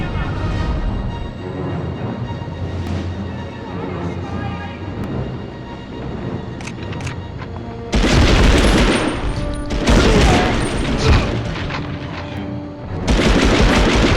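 Bursts of loud gunfire and explosive booms from a large gun erupt in several blasts over a steady mechanical background hum, with no talking, in the 1999 video game Medal of Honor.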